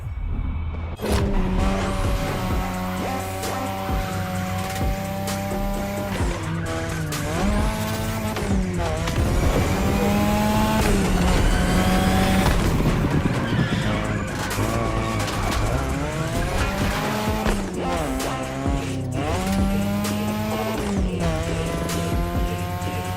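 Car engine revs and shifts on a mountain touge road in The Crew Motorfest, with tires squealing through repeated turns and a loud, continuous whine rising and falling as the driver brakes and accelerates.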